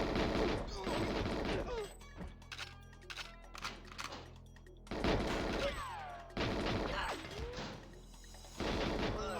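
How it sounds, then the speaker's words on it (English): Gunfire from the Nintendo 64 game GoldenEye 007, with bursts of shots and crashes separated by quieter gaps, under game music and effects. "Shoot, James!"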